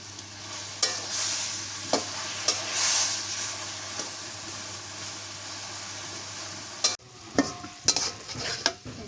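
Pumpkin greens frying in hot oil for a mashed greens dish, a steady sizzle with scraping stir strokes, then sharper clatter of the utensil against the pan near the end.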